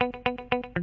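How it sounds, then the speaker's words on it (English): Muted clean Strat-style electric guitar from Ableton's guitar pack playing a short, tight rhythmic pattern of four evenly spaced plucked stabs, dry and close, with no talking. "Straightforward little muted strat sort of guitar."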